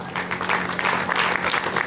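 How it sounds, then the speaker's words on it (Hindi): A crowd applauding steadily, dense clapping from many people sustained at a fairly loud level. "जोर से तालियां बजाइए। आप पीछे के लोग कंजूसी कर रहे हो।"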